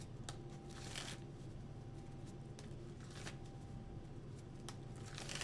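Sleeved trading cards are shuffled in repeated quick riffling bursts about once a second, a soft papery-plastic flutter, faint and close, with no talking.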